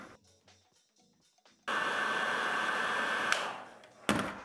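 Heat gun blowing to shrink heat-shrink tubing on an audio interconnect cable, a sudden steady whooshing roar with a faint whine that runs about two seconds, then clicks off, after some quieter handling sounds.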